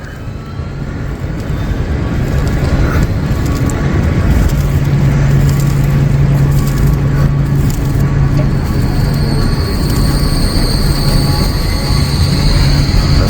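A tram rumbles past nearby in Zurich, steady and loud throughout, with a low hum and rising rattling, metallic squeal toward the end.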